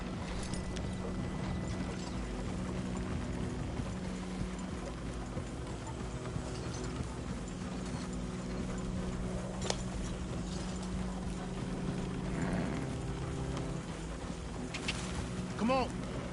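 Horse hooves clip-clopping at a steady pace in Red Dead Redemption 2, fairly faint beneath a low rumbling ambience with a couple of brighter knocks near the end.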